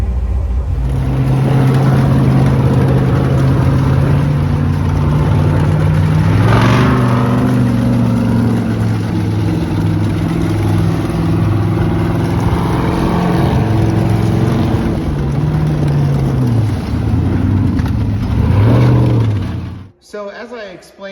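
An LS V8 swapped into a snowcat runs loud and close, a heavy continuous rumble with a sharp rev around the middle and rising, falling pitch swings before it cuts off near the end.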